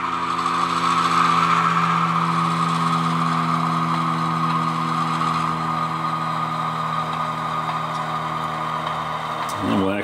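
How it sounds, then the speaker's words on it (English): A hauler truck's engine runs and drives in an outdoor yard being cleared of cars, a steady loud droning rumble with strong low harmonics throughout, ending with a brief squeal or rattle near the end. "And then get our hauler fired up"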